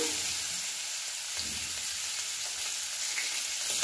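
Onions fry in hot oil, a loud, continuous broadband sizzle with no talking, dense and close throughout the short stretch.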